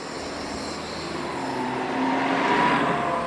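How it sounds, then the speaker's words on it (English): Street traffic in Bay Ridge, Brooklyn, rumbling steadily throughout, swelling louder toward the end as a heavier vehicle passes nearby, with no talking. "We have enough noise here already, with the traffic."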